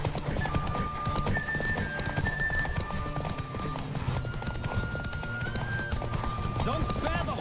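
A horse gallops in The Witcher 3: Wild Hunt, its quick, even hoofbeats near and continuous, layered with a held music tone and bits of a man's speech.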